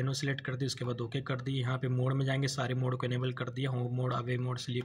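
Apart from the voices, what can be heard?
No everyday noise stands out behind the speech.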